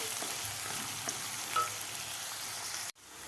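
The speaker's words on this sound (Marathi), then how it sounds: "आता कांदा आपल्याला थोडासा गुलाबी कलर होईपर्यंत आपल्याला परतून घ्यायचा आहे" Chopped onion sautéing in a pan, a steady close sizzle with faint stirring scrapes that cuts off abruptly near the end.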